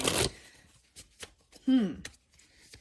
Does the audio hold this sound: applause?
no